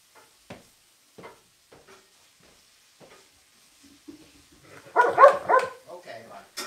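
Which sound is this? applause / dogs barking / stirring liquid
dogs barking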